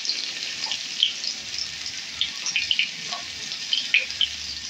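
Onion and turmeric fry in hot oil for a bean-pod chorchori, a steady close sizzle with scattered small pops and crackles throughout, no voices.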